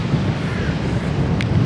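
Strong seaside wind buffets the microphone on the cliffs at Flamborough, Yorkshire, a loud continuous low rumble and roar with faint surf beneath, steady throughout.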